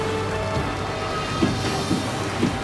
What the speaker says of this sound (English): As the rain beats down